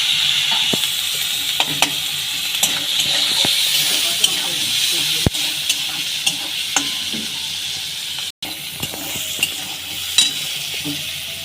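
Onions sprinkled with salt fry in a pan for an egg soup, giving a constant close sizzling hiss with scattered clicks of a spoon stirring against the pan.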